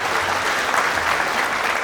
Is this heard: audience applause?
yes